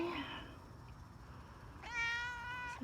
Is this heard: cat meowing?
yes